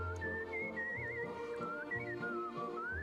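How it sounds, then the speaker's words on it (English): A man whistles a bright, wavering melody in a 1957 Eurovision song, the tune gliding up and down over a rhythmic orchestral accompaniment with regular bass notes. "He does whistle though."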